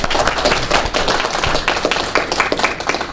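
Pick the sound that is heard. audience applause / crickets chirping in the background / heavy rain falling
audience applause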